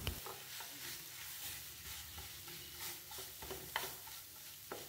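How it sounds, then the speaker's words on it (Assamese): Mashed raw banana fries in a pan on a medium flame with a faint, steady sizzle and occasional sharp clicks and scrapes of stirring. "গেছৰ ফ্লেমটো মিডিয়াম কৰিয়ে কলখিনিৰে সৈতে এইখিনি মই ভাজি থাকিলোঁ"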